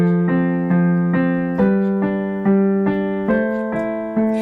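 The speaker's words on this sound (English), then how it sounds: "So we're going to rock back and forth just between the 2 notes of our chords like this" A piano chord rocked back and forth between two of its notes in an easy improvisation pattern, giving about ten evenly spaced, clear strikes with sustained ringing and no talking.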